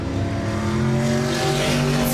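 Race cars roaring around Laird Raceway during a Thursday night oval race, engines droning loudly and steadily with overlapping revs from several cars close by.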